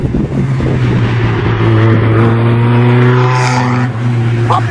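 A Duratec-powered Indy R race car's engine drones loudly and steadily up close, with a wavering rasp near the end but no distinct pops standing out.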